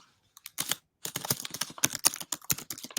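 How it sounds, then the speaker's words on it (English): Rapid computer keyboard typing, close and clear, with dense irregular clacks in bursts after a short pause, no talk over it. "Uh-oh, you're typing."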